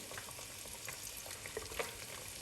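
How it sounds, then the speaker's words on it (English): Hot oil scooped from a pan of frying chicken sizzles in a dry pot for Nigerian fried rice, a continuous soft crackle with a few sharper pops, quiet and close. "I'm going to scoop some oil from my frying chicken and add here"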